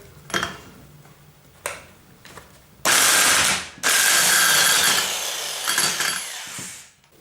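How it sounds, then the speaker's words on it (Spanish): Impact wrench tightening the alternator pulley nut on a Ford Fiesta MK1, heard as a few short ratcheting bursts and then two longer loud rattling runs, close up, with no talk. "voy a terminar de apretarla con la pistola que he utilizado al principio del vídeo para quitarla"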